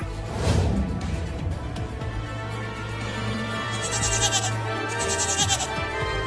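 Cartoon baby goat bleating in a few wavering, nasal cries over a steady background music bed, with no talking.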